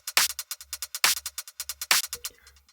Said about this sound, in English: PsyTrance snares / claps, you have a lot of low end taken out.